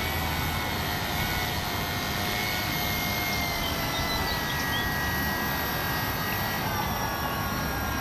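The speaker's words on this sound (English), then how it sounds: "that was the review and flight of the FlyZone Tidewater airplane" A FlyZone Tidewater radio-controlled seaplane drones overhead with a steady buzzing engine whine, constant and moderately loud, with no voices.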